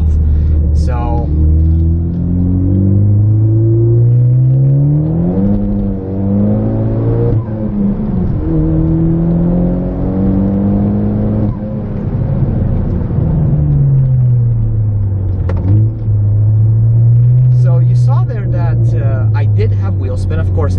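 A Ford EcoBoost car engine revs and climbs repeatedly in rising sweeps, loud and close, as gears shift with traction control off on slightly damp tarmac, with someone talking over it.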